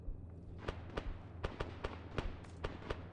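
Sharp gunshot-like bangs from a video game ring out one after another at an uneven pace, fairly quiet and without speech.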